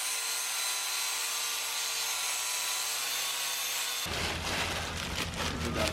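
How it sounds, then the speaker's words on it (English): Power tool grinding a metal bracket down to bare metal on a Honda Shadow bobber fender, a steady harsh whine that suddenly shifts into a louder, rougher, broadband rasp partway through, close and continuous. "you want to grind this down to bare metal so we can weld the"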